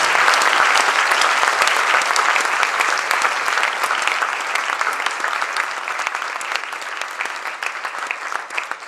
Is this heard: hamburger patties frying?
no